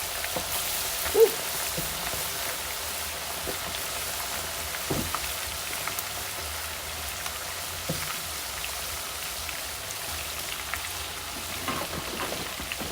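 Unbreaded, seasoned chicken wings fry in hot oil, making a steady dense crackle and sizzle with scattered sharper pops throughout, heard close up and without voices.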